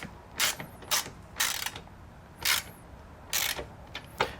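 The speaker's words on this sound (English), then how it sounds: "And then we can put on our lock nut. Now we can go ahead and just tighten this down." A wrench ratchets a lock nut tight on a MORryde Safe-T-Rail telescoping hand rail fitted to a 2022 Jayco RV, producing six distinct ratcheting strokes in a steady, close, moderately loud rhythm.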